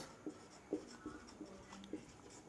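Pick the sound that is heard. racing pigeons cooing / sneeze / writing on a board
writing on a board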